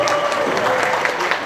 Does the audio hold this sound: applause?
yes